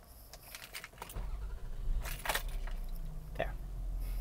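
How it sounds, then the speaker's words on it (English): A car is started with keys jangling. Metallic clinks and rattles come first, then a low engine rumble builds and holds steady to the end. "Let me turn this car on and plug in here."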